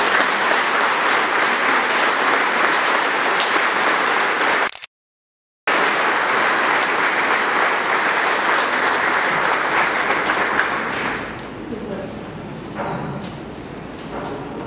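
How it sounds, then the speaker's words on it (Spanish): Mourners at a funeral for Don Guadalupe Fonseca Cobian give a loud, sustained round of applause that cuts out for about a second, resumes at full strength and then thins into scattered claps near the end. "Hoy quiero pedirles un aplauso por su graduación al reino de Dios"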